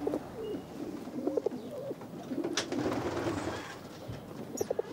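Pigeons coo on a housing estate in soft, repeated bursts at moderate distance, with a brief wing flutter and outdoor background noise between the calls.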